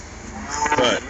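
A cow on a farm with a feed barn gives a single drawn-out moo, fairly close and rising in strength toward the end, over low background noise.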